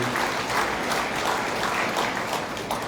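An audience of public servants at a Perak state assembly applauds. Their thick, even clapping runs unbroken for about three seconds at moderate loudness.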